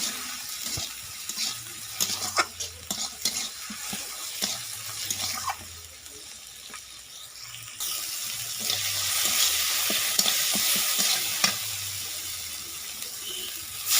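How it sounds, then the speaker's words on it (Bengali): Chopped tomato gets stirred into a frying koi fish curry in a village kitchen pan. A loud, constant sizzle runs through the whole stretch, with scraping strokes of the spoon at intervals. "টমেটো কুচানো দিয়ে দিচ্ছি। আবারও ভালো করে নাড়িয়ে নিচ্ছি।"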